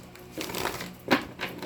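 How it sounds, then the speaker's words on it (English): A few brief riffling bursts of tarot cards being shuffled, close and soft, in quick succession with short pauses between. "Let me get you some good shuffles in, and we will begin your reading."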